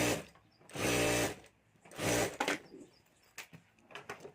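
A sewing machine stitches a pocket onto a homemade jewelry bag in two short, even bursts of rapid whirring, with quieter handling clicks and rustles between and after them.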